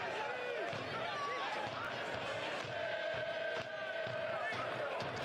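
A soccer stadium crowd roars in a steady, loud wall of cheering and chanting throughout, with an announcer talking over it.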